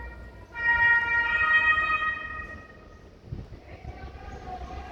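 A police siren in Italy, near a railway track, wails for about two seconds as a steady, fairly loud tone over a rumbling street and traffic bed, then fades as it moves away.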